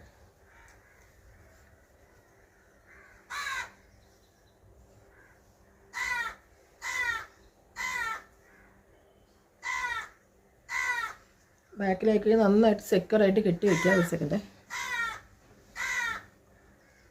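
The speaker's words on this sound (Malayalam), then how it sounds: "പുറത്തിരുന്ന് വീഡിയോ എടുക്കുന്ന കാരണം കാക്കയും ശല്യമുണ്ട്" Crows caw in short repeated bursts outdoors, fairly close, with a person talking briefly in the middle of the calls.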